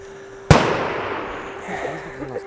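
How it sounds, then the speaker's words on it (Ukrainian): A single sharp rifle shot cracks out at a training base and rolls away into a long fading echo, loud and close, with faint background noise and no clear talk. "тут он снайпера працюють"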